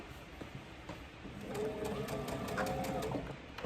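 A sewing machine stitching a raglan shirt runs steadily at close range for a few seconds, with a soft mechanical whir and rapid needle clatter and no talking.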